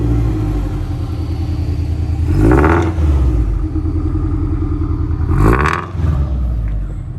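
A Subaru BRZ/FRS with a custom 3-inch valved catback exhaust idles close by, a deep steady burble with two brief swelling blips, loud and alone.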